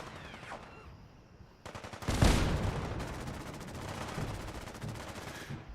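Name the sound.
automatic gunfire in the video game Fallout 4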